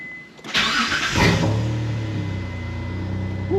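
A Dodge Stealth R/T fitted with a full performance exhaust cranks and fires up, a short starter whir bursting into a loud, close roar that settles into a rumbling, throaty idle.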